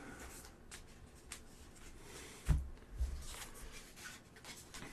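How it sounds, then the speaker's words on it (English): A deck of cards being shuffled, two quick riffling bursts with soft rubbing between them, close but quiet with no talk. "Shuffle it up."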